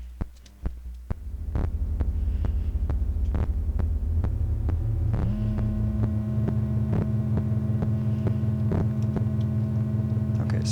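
Clean mix output of a Snazzy FX modular synth module: a steady, throbbing low drone that kicks in after a few soft clicks, then swells into a thicker pulsing hum with layered tones, with no one talking.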